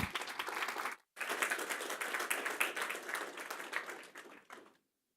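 Warm audience applause for the finalists of a brain health pitch competition, dense and steady clapping for about four seconds after a brief break, then fading out to silence.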